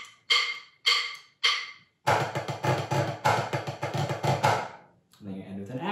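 Three spoken syllables come first, then a snare drum plays a fast pattern of sharp accented hits on beats 1 and 3 mixed with rolled buzzes before fading into quiet.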